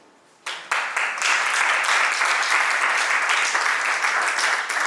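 Parents at a youth leadership camp closing ceremony break into sustained applause after a quiet start, a loud, dense wash of many hands clapping that holds steady to the end.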